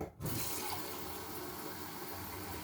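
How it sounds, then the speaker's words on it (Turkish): Lukewarm tap water pours steadily into a pot of tarhana soup, a continuous close rushing splash after a brief start, with no talking. "Bir su bardağı da musluktan suyumuzu ekledik"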